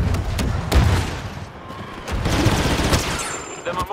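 Video game combat with a grenade blast and bursts of gunfire, a dense, loud roar of overlapping shots and booms with a sharp crack near the start and continued firing afterward.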